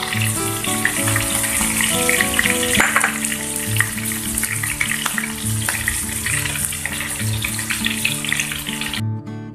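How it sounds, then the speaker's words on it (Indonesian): Food sizzles and crackles steadily in hot oil in a pan close by, a continuous frying hiss with light stirring clinks throughout and no voices. "Udah kita panasin, bisa ini kita goreng."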